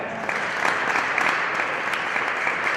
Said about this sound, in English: Can you just clap? Quick, quick, slow.